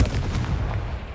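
Confringo spell blast in Hogwarts Legacy, a loud booming explosive burst at the start with a rumbling tail fading over about a second, no speech.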